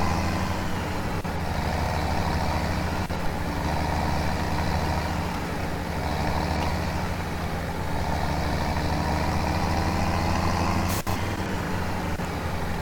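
A farm tractor engine runs steadily close by, a continuous low, rumbling drone that holds an even level throughout with no talking.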